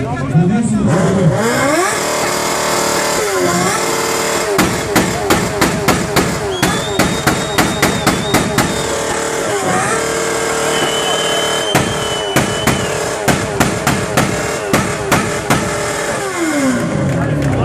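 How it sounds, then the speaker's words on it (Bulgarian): Two motorcycle engines start and rev in sharp, repeated bursts with popping exhaust, loud and close, while people talk intermittently in the background. "Добре, искам да го запалим пак и другия мотор."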